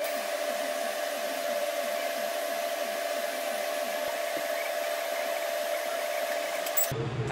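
Torch hissing steadily while welding a custom 3-inch pie-cut turbo downpipe for a big single turbo engine swap; a loud, constant roaring hiss that cuts out abruptly at the very end.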